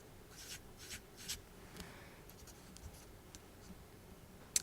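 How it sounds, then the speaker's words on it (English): A pen scratches out figures by hand for a budget worksheet, in short separate strokes with pauses between them. It sounds quiet and close, with faint paper shuffling and no talk. "Let's write it in."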